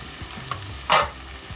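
Capsicum and peanuts fry quietly in a pan, a soft low sizzle broken by a short scraping stir, close up and with no one talking.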